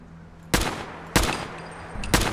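Three sharp gunshots in a video game, spaced roughly half a second apart, loud and close, each with a short ringing tail over a quiet, low background hum.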